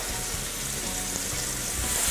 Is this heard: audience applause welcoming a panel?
no